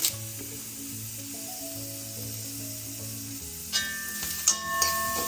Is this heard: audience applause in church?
no